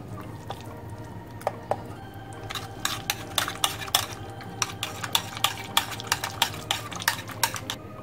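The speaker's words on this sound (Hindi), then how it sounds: "अब इसे छानेंगे।" Ground tamarind and dry date pulp being pressed through a strainer in a kitchen, heard as close, sharp metallic taps and scrapes that start sparse and then quicken into a steady rhythm over a low background hum, with no talking.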